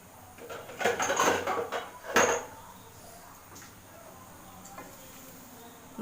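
A lid is set down on a cooking pot in a home kitchen, giving a few metallic clatters and clanks close by in the first couple of seconds, then quiet kitchen background.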